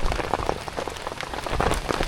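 Rain falls hard at a campsite during a storm, a loud, continuous wash of close drops spattering on surfaces, with no one speaking.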